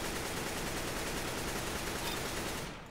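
Continuous rapid gunshots on a CS GO recoil practice map, a dense loud unbroken burst of automatic fire that cuts off abruptly at the end, with no voices.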